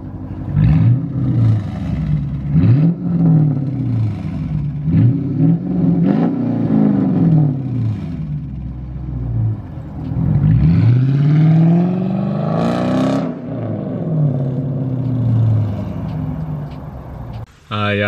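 Dodge Charger R/T with mufflers and resonators removed, its V8 revving repeatedly in loud, rising sweeps with deep rumbling between pulls, heard up close without talk.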